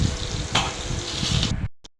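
Eggplant slices frying in oil, a dense close sizzle with a brief stir or clatter partway through, then it cuts out suddenly, leaving a short tick before silence.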